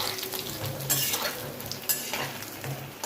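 Chowmein pakoras frying in a pan, a steady sizzle of oil with periodic scraping strokes of a spatula against the pan, close and moderately loud.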